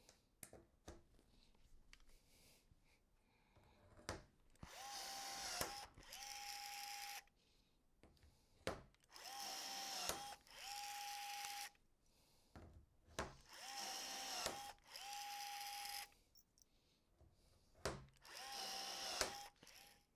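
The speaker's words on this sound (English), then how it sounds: "use your rivet gun to pull them tight" A rivet gun pulls tri-bulb rivets tight while a J&J Echo recirculating portable toilet is assembled: about five loud whirring bursts, each roughly two seconds long with a steady whine, separated by short pauses and small handling clicks.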